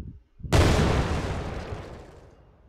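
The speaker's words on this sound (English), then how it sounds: "Let's play some explosion sound as well." An exploding barrel effect in an Unreal Engine 4 game scene: a single loud, sudden boom that hits at full force after a brief quiet moment, then rolls away in a long, slowly fading rumble.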